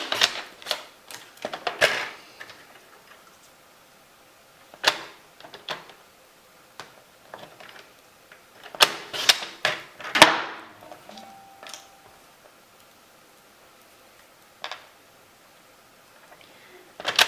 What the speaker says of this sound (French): Je vais tout simplement le couper en fait, hein, avec le massicot